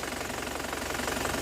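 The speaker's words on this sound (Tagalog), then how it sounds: "masyadong malakas na yung blow by." Worn Isuzu 4JA1 diesel engine with loose compression running with the oil filler cap open, heavy blow-by giving a steady, loud, close knocking rumble throughout.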